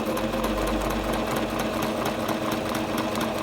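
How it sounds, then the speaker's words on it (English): A Singer Starlet 6680 sewing machine stitching light fabric, a close, steady, fast mechanical whirr with rapid even needle ticking that runs continuously without pause or talking. "then we use the foot and start the machine"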